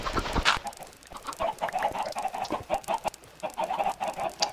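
Chickens in Minecraft cluck repeatedly in a busy, overlapping series near the listener, with one louder squawk at the start and steady pecking-like calls throughout.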